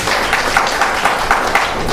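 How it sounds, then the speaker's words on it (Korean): Steady applause from a forum audience, dense and even, lasting throughout without voices. "발제를 큰 박수로 청해드리도록 하겠습니다"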